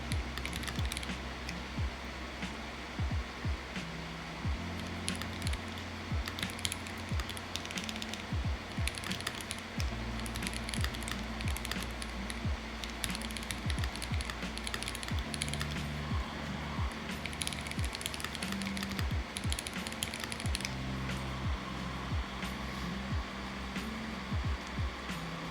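Typing on an Arc60 mechanical keyboard fitted with silicone plugs: soft, muted keystrokes in quick irregular bursts with short pauses, close up and gentle, continuing throughout with no talking.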